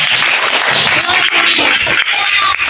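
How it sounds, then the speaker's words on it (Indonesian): A classroom of students applauds a classmate named Yusuf, a brief, dense burst of clapping that sounds loud and close throughout. "tepuk tangan untuk Yusuf"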